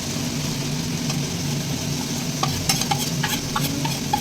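Ground chili, coriander and cumin powder fry in a pan of masala with a steady close sizzle, and spatula scrapes and knocks come in the second half as the spices are stirred in.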